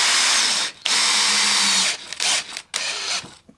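A power drill drives a screw into a wooden shooting board, a loud, close whirring that runs, cuts out briefly, then resumes in short bursts before stopping, with no talking.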